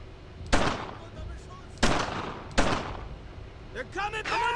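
Gunfire in the World War II shooter Brothers in Arms: Earned in Blood: three loud, sharp rifle shots spaced about a second apart, each with a trailing echo, then a burst of fainter crackling shots and chatter at the end.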